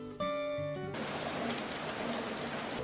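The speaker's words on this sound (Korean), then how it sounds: "빗소리를 들으면서 조용하게 할 수 있는 게임." Soft, steady rainfall from the mobile game 비 내리는 다락방 (Rainy Attic) begins after a few gentle guitar notes and then continues as an even hiss.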